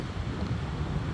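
Wind blows steadily, buffeting the microphone with a low, continuous rumble and no voices.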